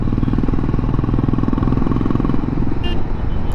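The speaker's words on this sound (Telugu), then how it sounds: "ఫిఫ్త్ గేర్ 50 స్పీడ్లో ఉన్నా కూడా నథింగ్, అసలుకి ఈజీగా పుల్ చేస్తుంది బండి" A Hero Mavrick 440 motorcycle engine pulls steadily in fifth gear, giving a loud, continuous thrumming drone with a faint brief rattle near the end.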